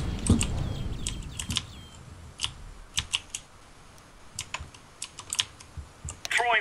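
Loud computer keyboard clattering during a CS:GO match, sharp scattered keystrokes in irregular bursts, close to the microphone, with brief speech at the very start and end.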